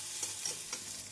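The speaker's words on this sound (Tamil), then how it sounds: "இஞ்சி பூண்டு விழுது சேர்த்து நன்றாக வதக்க வேண்டும்." Chopped onion with ginger garlic paste sautéing in a pan over medium flame, a steady close sizzle with light scraping stirs, no voices.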